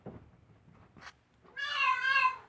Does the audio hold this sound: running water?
no